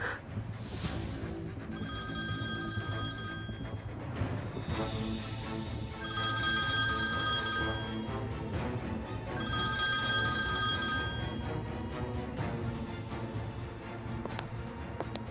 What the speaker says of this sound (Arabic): إن شاء الله رد على الموبايل.